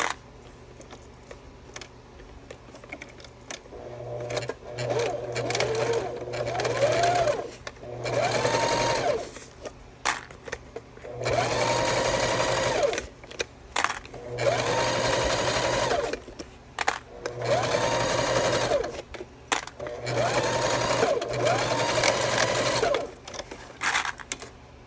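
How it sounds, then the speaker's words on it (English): Repeated runs of a sewing machine stitching the bottom seam of a bag at a 3/8 inch allowance, six or so bursts of whirring with short pauses and clicks between them, close and clear, no speech. "We're going to sew along the bottom with a 3/8 inch seam allowance"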